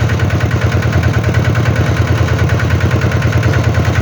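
A walking tractor's engine chugs loudly and continuously at close range, with a fast, even, rattling knock.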